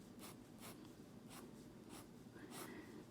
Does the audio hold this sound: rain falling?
no